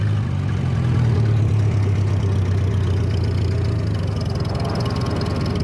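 A 1940s Farmall BN tractor engine running under throttle, a steady low chugging drone with a rhythmic knocking pulse, close and continuous without speech.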